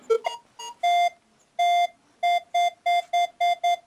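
Metal detector sweeping an attic gives a run of electronic beeps, a few short uneven chirps followed by repeated longer steady tones in a loose rhythm, close and clear with no talking.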